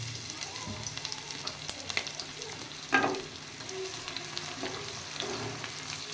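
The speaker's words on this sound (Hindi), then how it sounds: "कुकिंग ऑयल अब हमारा गर्म हो चुका है। इसमें डालेंगे प्याज" Steady, close sizzling and crackling of medium-sized chopped onions frying in hot cooking oil, with occasional light stirring clatter and no speech.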